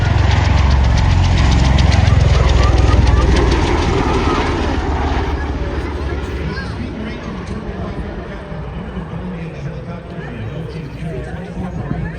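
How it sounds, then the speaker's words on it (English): An Osprey tiltrotor aircraft at an air show, nacelles rotating as it transitions after a vertical takeoff, gives a loud, deep roaring rotor and engine drone. The roar is strongest for the first few seconds, then eases off steadily under an announcer's voice and crowd chatter. "Ladies and gentlemen, right here, this is the Osprey."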